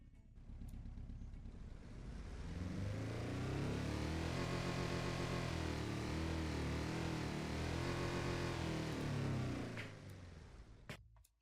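A 1972 off-road car engine in the Automation video game revs up from idle, holds a loud sustained roar for several seconds, then falls back down, with no one talking over it.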